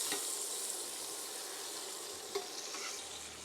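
Food sizzling slowly in a pan on the stove, a steady soft crackle and hiss with a few faint clinks, no talking.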